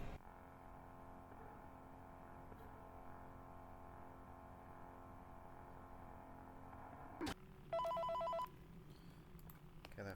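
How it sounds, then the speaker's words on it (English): A telephone rings loudly in the horror game The Return to Freddy's 4, a steady tonal ring over a droning ambient hum that cuts off abruptly, followed by a brief electronic beep. "that phone call's way too loud"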